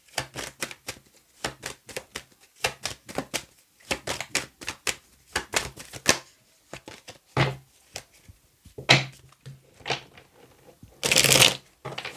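Tarot cards being shuffled by hand in repeated quick riffling bursts, crisp and close, with brief pauses between bursts and a louder rustle near the end.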